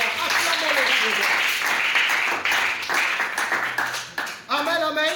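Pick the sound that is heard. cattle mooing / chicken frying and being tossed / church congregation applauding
church congregation applauding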